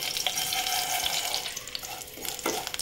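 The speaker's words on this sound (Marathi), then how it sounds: "शेवया चांगल्या भाजून घ्यायच्या, थोड्याशा लालसर होईपर्यंत" Vermicelli roasts in hot ghee, a soft continuous sizzle with scattered light stirring clicks and scrapes, close and fairly quiet.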